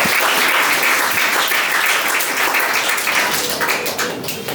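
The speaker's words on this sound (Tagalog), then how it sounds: "Pumalakpak po yung mga nagagalak" A church congregation claps loudly and continuously, a dense close roar of many hands that stays strong and thins slightly toward the end, with no speech over it.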